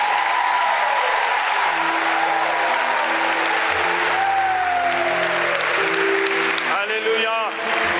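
Church audience clapping for themselves at an evening worship gathering, sustained applause with music and a voice heard over it, a few cheers near the end.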